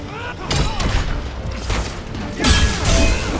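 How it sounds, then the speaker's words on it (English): Energy cannon blasts and a shield slam from the Injustice 2 fighting game, a dense burst of booming impacts and crashing hits, with a heavier, louder slam near the end. "Energy cannon and a shield slam."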